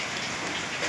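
Steady rain falling in a Kashmir mountain village, a dense continuous hiss of drops close by with no other sounds over it.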